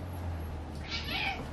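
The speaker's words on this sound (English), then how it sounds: "Oh my God, look at this cat." A cat meows indoors, one soft, fairly quiet drawn-out call rising and falling over a faint steady background hum.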